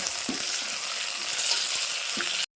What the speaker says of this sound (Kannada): ಶುಂಠಿ ಬೆಳ್ಳುಳ್ಳಿ ಪೇಸ್ಟು ಮತ್ತು ಟೊಮೆಟೊ ಹಣ್ಣು ಹಾಕಿ ಫ್ರೈ ಮಾಡ್ಕೋಬೇಕು